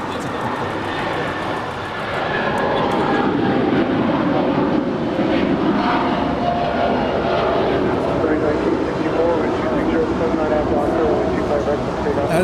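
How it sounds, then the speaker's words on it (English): A United Airlines Boeing 757-200 departs Los Angeles International Airport, its steady broadband jet roar holding loud and continuous throughout, swelling slightly after the first couple of seconds, with voices talking faintly underneath. "As United Airlines Flight 516 departing to JFK, New York. It's a Boeing 757-200."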